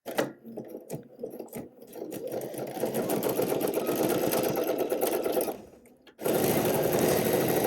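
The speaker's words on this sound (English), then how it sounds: "we're just going to top stitch this in place" A sewing machine top stitches a straight, paneled dress hem, running steadily in long continuous bursts with a brief pause before resuming, close and fairly loud.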